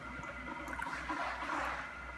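Coffee maker plunger pressed down, forcing air and coffee through a metal filter with a steady close hissing, gurgling rush that runs continuously.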